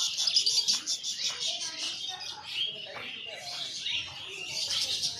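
African lovebirds in a bird park, a dense chorus of high, rapid chirps and tweets at moderate distance, with people talking quietly underneath.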